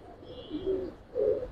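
Light-coloured, molting Giribaz pigeons cooing softly nearby, two low murmuring coos with a quiet pause between, no voices.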